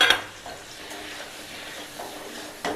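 Ground cumin, red chilli and turmeric stirred and fried in a pan for a singh fish curry with potatoes, with a soft continuous sizzle and a few light scrapes of the spoon against the pan, close and fairly quiet.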